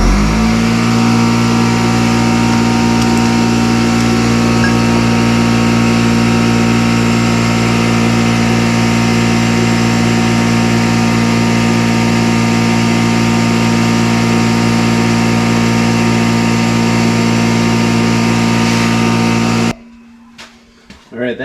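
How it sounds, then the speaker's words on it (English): Air compressor running near an LB7 Duramax turbo wastegate actuator, a loud constant mechanical drone with a steady hum that holds evenly for about twenty seconds and then stops abruptly. "So I'm going to go ahead and turn on the air compressor."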